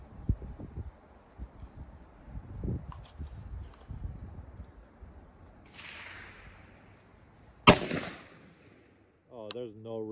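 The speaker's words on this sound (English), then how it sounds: "Let's give her some shots." A SIG Spear LT short-barreled rifle fires a single sharp, loud shot amid quiet outdoor background with scattered thumps, followed by a brief buzzing tone near the end.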